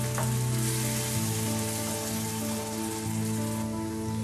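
Tomato puree sizzles and sputters in a hot pan with ginger-garlic paste, a steady close-up frying hiss, while a low tonal hum runs beneath it and no voices are heard.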